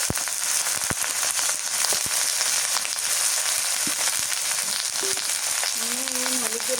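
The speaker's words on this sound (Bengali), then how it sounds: "গরম মশলা, লং, তেলের মধ্যে নাড়াচাড়া করে নিই।" Garam masala and cloves stirred in hot oil for mutton with jackfruit, a loud dense crackling fry throughout with scattered pops and a brief faint squeak near the end.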